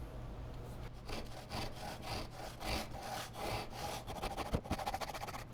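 A kerfing plane saws a diagonal groove into a wooden board, guided by a batten with no fence. It makes a steady series of close, rasping push-pull strokes that quicken slightly toward the end.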